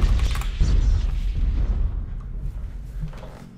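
A deep, booming missile explosion in Mechwarrior Online, loud and close at the start, then rumbling and fading away over a few seconds with scattered low thuds.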